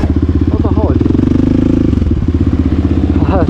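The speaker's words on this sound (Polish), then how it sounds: "Teraz gazu daję na maksa" Motorcycle engine revved hard to full throttle, a loud, close, steady pulsing roar that rises and holds, with brief clattering mechanical noise over it.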